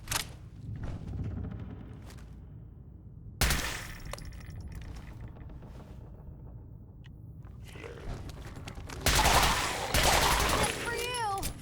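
Gun blasts in modded Fallout 4, a few sharp, loud shots spaced seconds apart with a heavier burst near the end, separated by quieter stretches with some clatter.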